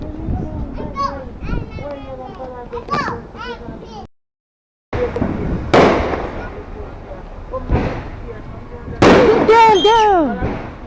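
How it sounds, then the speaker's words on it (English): Fireworks pop and burst sharply during a 4th of July show, loud and close, amid excited talk and children's voices. "We're waiting for the fireworks."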